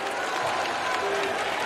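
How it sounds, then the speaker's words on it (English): NC State fans applaud in a basketball arena, a steady roar of clapping and crowd noise that stays loud throughout the short moment. "And the NC State fans applaud the defense."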